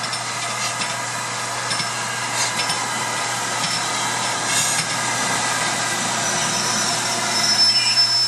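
A North Yorkshire Moors Railway train rumbles along at close range at Whitby, with a steady low hum, metallic rail noise and a faint high squeal of wheels as it slows to a stop.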